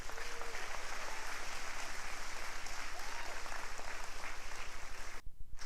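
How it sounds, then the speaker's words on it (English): Audience applause at a workplace safety recognition ceremony, dense and steady clapping from a large crowd that fills the room, then cuts off abruptly near the end before resuming faintly. "one more big round of applause for the 17 that didn't make it"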